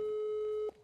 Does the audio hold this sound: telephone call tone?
yes